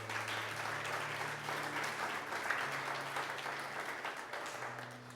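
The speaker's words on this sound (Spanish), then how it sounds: "Démosle una ofrenda de aplausos al Señor." A church congregation claps together in sustained, steady applause, a dense crackle of many hands that stays loud and even throughout with a low hum underneath.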